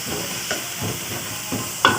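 Onions sizzling in a pan for bitter gourd masala, a steady close hiss broken by periodic stirring scrapes at a regular pace, ending in a sharp clink.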